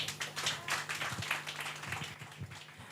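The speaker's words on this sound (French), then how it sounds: "on applaudit encore une fois la candidate numéro 8" Audience at a Miss and Mister pageant clapping for a contestant, steady scattered handclaps at moderate distance, fairly faint, with no talking over it.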